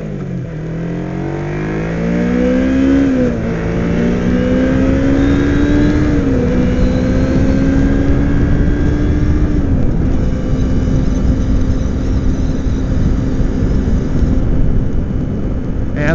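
A 2007 Kawasaki Ninja 250 motorcycle engine holds a steady high drone near 7,500 RPM, rising through the gears early on and then cruising loud and constant with wind rush throughout.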